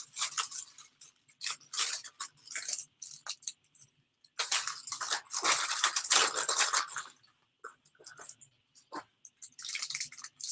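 Loud, close crinkling of a plastic baggie holding small knitting needle markers, coming in bursts of rustling with short quiet gaps between handlings.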